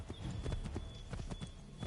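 Horse hooves clop in a quick, steady rhythm in the Assassin's Creed III Remastered video game, moderately loud and continuous over a low background.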